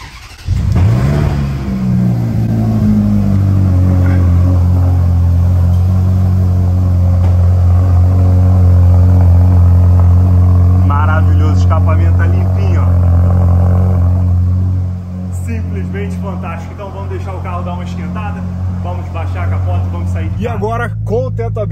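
A Ferrari California with a naturally aspirated 4.3-litre V8 and tube exhaust cold-starts with a sharp rising bark, then settles into a loud, steady high idle; someone talks over it in the later part.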